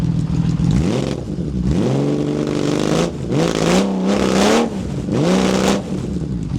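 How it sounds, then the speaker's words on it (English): Cold 1980 Honda CBX1000 six-cylinder motorcycle with a 6x6 exhaust system revved several times, each sharp rise and fall in pitch separated by brief idle dips, loud and close. "I'll give it one more little rev."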